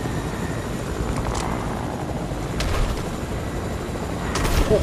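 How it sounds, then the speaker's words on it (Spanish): A combat helicopter flies in the video game Fortnite, a steady broadband rotor whir and rumble that fills the clip and swells slightly louder toward the end. "Ey, el helicóptero."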